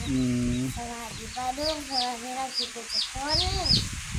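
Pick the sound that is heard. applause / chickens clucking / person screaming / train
chickens clucking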